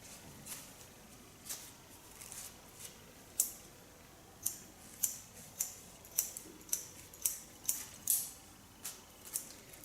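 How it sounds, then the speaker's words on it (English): Sharp metallic snips from a new pair of hairdressing scissors cutting hair at the crown, about a dozen crisp clicks in an uneven rhythm, close and clear over a faint background with no talking. "The nice thing about this new scissor is that it gives an ultra classic sound"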